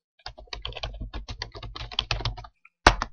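Typing on a computer keyboard into a spreadsheet: a quick run of close, crisp key clicks for about two seconds, a short pause, then a louder final keystroke like Enter, with no talking.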